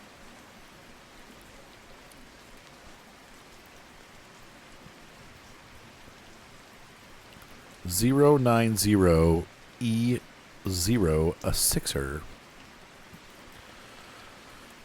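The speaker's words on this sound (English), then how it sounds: "Now in real life, you would not spray in the rain, but it's a game" Steady hiss of rain in the game My Garage runs throughout, with a person speaking briefly over it near the end.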